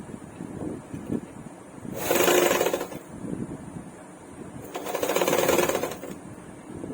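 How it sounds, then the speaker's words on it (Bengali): Sewing machine stitching two edges of blouse fabric together with matching thread, in two bursts of steady whirring run, each about a second long, with quiet gaps between; close and moderately loud. "এবারে আমি দুটো মুখ এক জায়গায় করে সেলাই করে নেব"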